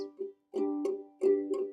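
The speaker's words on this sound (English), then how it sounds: "let's just strum down strums like this. We call this straight 8s." Three bursts of straight-eighth down strums on a ukulele, bright-toned, each a pair of quick down strums ringing briefly, separated by short silences.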